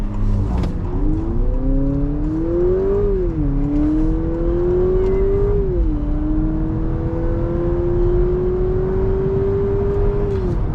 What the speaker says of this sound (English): Acceleration is definitely acceptable for a vehicle in this segment.